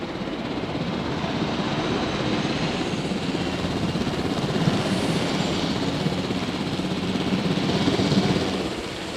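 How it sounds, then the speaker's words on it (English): A helicopter in the Jurassic World Evolution video game hums with a steady rotor and engine drone that holds at an even, close level throughout, with no talking. "let's get the helicopter into position"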